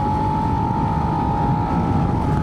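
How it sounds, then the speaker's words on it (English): Suzuki SV-7GX motorcycle from 2026 with a revised airbox, a steady loud engine intake drone with a sustained hum under rushing wind noise while riding, continuous throughout. "Love that intake noise."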